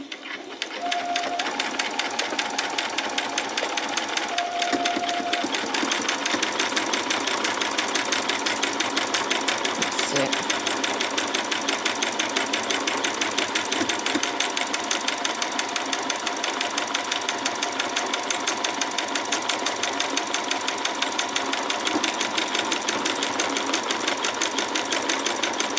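Sewing machine stitching a buttonhole on a spring apron, a steady continuous motor hum with rapid needle rhythm running throughout, briefly pausing near the start.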